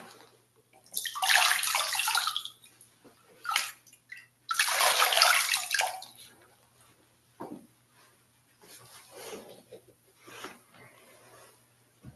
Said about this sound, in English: we can rinse our feet